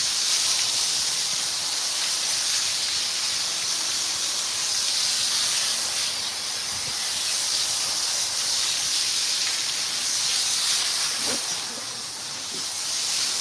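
Water sprays steadily onto an American Bully dog during a bath, a loud continuous hiss that holds almost unchanged throughout with slight swells in level and no talking.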